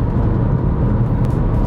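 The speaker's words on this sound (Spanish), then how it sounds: "Ahí baja el cambio, suben las revoluciones" A Chevrolet Tracker Turbo engine revs up as the automatic gearbox shifts down, heard from inside the car as a steady, close, loud whirring drone without talking.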